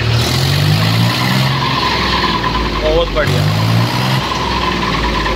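A tractor engine runs steadily and loudly throughout, with a low rumbling drone and a brief squeal near the middle, as a voice speaks over it.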